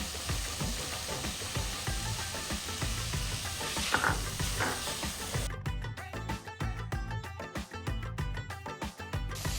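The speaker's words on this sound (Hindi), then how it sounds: "हाई आंच में सब्जियों को थोड़ा सा अच्छे से टॉस कर लिया" Green peas, carrots and chopped cauliflower are tossed in a pan over high heat, a steady loud sizzle giving way to a rapid rhythmic rattle of vegetables being flipped and stirred.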